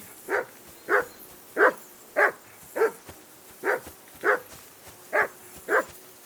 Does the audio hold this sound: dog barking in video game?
yes